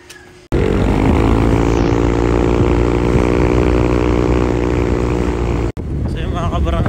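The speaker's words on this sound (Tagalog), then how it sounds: "Nagising ka sa tunog ng motor?" A motorcycle engine runs loud and steady, close by, on a roadtrip in Malico, San Nicolas, Pangasinan. It cuts in abruptly after a quiet start, drops out briefly near the end, then resumes.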